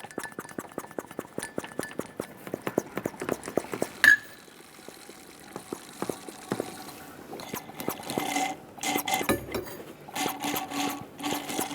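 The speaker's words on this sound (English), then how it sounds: "I'm going to use a vacuum pump with a hose that I can stick down in there and just pull all the fluid out." A hand vacuum pump with a hose draws old brake fluid from the reservoir of a 2010-2017 Chevrolet Equinox: a quick, even series of pumping clicks, then a hissing, gurgling suction as fluid flows, all close up.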